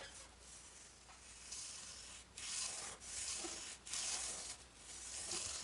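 Sandpaper rubbing along the edge of a balsa glider fuselage, a steady dry hiss in long overlapping strokes that swell and fade, fairly close and quiet, with no talking.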